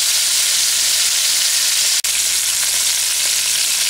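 Country fried burger patties sizzling steadily in a pan, a loud continuous close-up frying hiss broken by one brief dropout, with no talk.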